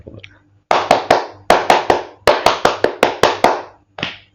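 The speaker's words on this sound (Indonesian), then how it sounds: "Tepuk dulu." Hands clapping in quick bursts of two or three sharp claps, close and loud, with brief pauses between groups and a final single clap.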